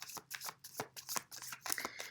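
Tarot oracle cards are shuffled close up in quick irregular riffles and soft slaps, each burst crisp and brief, quiet overall with no talking.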